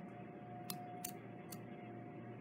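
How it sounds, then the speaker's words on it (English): Scissors snip paper while a basic paper snowflake is cut, three short crisp cuts spaced about half a second apart over a steady low background hum, close and clear with no talking. "So opening your scissors, remember the sharpest part is way down inside here. And I'm gonna turn my paper at an angle so that I'm cutting up to it."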